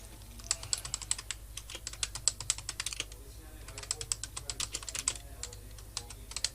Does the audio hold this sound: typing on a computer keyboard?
yes